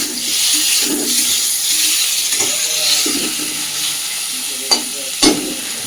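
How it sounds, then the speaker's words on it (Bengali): Jiol fish fries in a pan and is stirred the whole time, giving a steady loud sizzle with scraping from the stirring and two sharp knocks near the end. "আর জিওল মাছ দিয়েই সঙ্গে সঙ্গে নেড়ে দিতে হয়"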